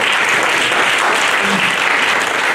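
A church congregation applauds in a steady, loud, continuous wash of clapping that lasts the whole moment.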